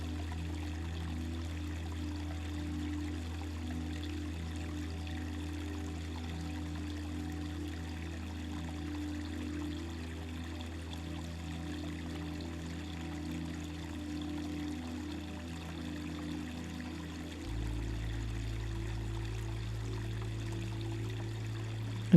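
A fresh river flows over pebbles near a tree trunk, a soft continuous trickle and pour of water under a steady low hum that shifts in pitch partway through.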